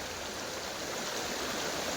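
A river fed by rain runs down from a hill past a temple at Matsya Kashi, giving a steady, even rush of flowing water that stays constant and fairly faint throughout, with no voices.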